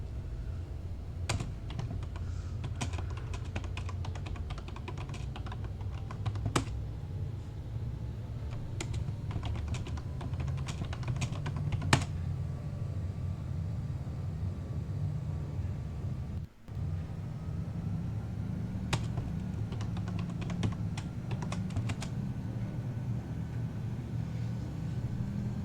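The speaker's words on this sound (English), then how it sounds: "I'm not being professional about typing." Typing on a computer keyboard, bursts of quick, close key clicks separated by pauses, over a low steady background hum with no voices.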